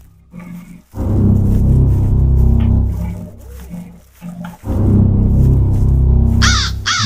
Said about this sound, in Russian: Ворон это тут откуда?